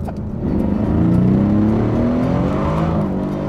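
A new car's engine revs loud and close as it pulls away, the pitch climbing steadily through the gear in a throaty, rising roar.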